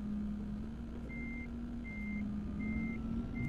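Futuristic concept truck in American Truck Simulator idling with a steady low electric hum while a reversing-style beep repeats four times at an even pace, close and clear with no talking.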